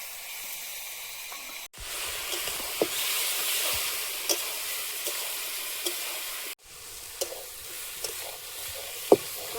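Spice paste added to a large cooking pot sizzles with a steady, close broadband hiss. Faint stirring clicks and knocks sound throughout, and two brief dips in the sizzle mark moments when the paste goes in.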